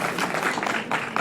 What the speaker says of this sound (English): You don't need to clap.